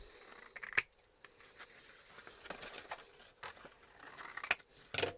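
Scissors snip through paper for a paper fairy craft, giving close, crisp cuts in an uneven rhythm over quiet room tone.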